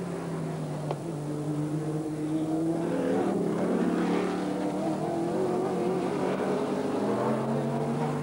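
Race cars at the 1984 New Zealand Grand Prix, led by a Ford 2.5-litre Cosworth Sierra, roar past with engines rising and falling in pitch, loud and sustained over distant crowd noise.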